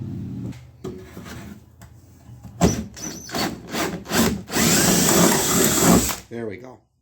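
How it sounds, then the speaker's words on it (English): A drill bit is pushed through a burred bolt hole in the tailgate of a 2003 Dodge RAM 3500 dually. Several short grinding bursts build into a sustained, close rasping whir, and someone talks briefly around it. "I just gotta push a drill through it."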